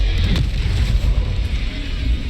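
The Confringo fire spell in the Hogwarts Legacy video game bursts with a loud, close, rumbling blast that rolls on with crackling, booming noise throughout.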